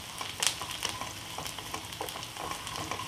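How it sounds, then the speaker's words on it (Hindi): Mustard seeds and curry leaves sauté in hot oil in a pan, giving a soft, steady sizzle with scattered crackling pops, fairly quiet and close, with no voices. "और फिर 1 मिनट तक सॉटे करेंगे।"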